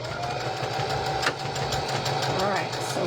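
A sewing machine hums steadily while stitching a small fabric pear for a primitive country fall craft, its motor running continuously and loud with a voice talking over it.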